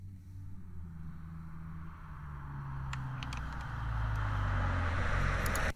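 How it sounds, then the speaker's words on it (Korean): Truck sound effect from a transportation sound library: a steady low engine rumble and road noise that swells louder over several seconds and cuts off abruptly at the end, with no voices. "그다음에 트럭."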